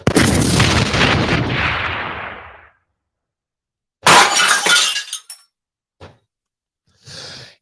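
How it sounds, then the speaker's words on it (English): A loud bomb-drop effect: a crashing, shattering burst that decays over about three seconds, then silence, another harsh crash-like burst, and scattered shorter noises, with no talk. "let me drop a bomb"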